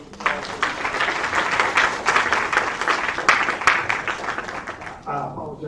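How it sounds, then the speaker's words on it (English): An audience at an education symposium applauds with a burst of clapping that swells and holds for several seconds, then fades as a voice begins speaking at the end. "Come on, let's give him a round of applause."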